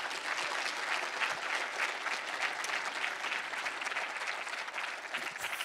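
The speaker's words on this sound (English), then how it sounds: "Let's give one more big round of applause for all of them." A large audience at a university startup demo day applauds in a loud, sustained round of clapping that holds steady and dense for several seconds, close and full with no voices standing out.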